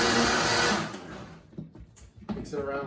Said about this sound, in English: then we're going to hit it a couple times on the blender